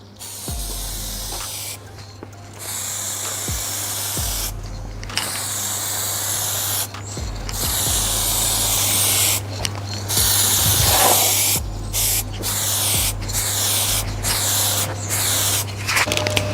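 Aerosol tint spray coats a Vauxhall Corsa D rear light in a long series of loud, close hissing bursts separated by short silent pauses.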